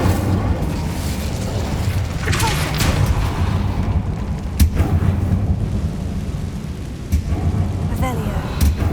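A fiery Incendio spell blast in the video game Hogwarts Legacy, heard as several booming bursts with a few sharp cracks over a steady low rumble, loud and close.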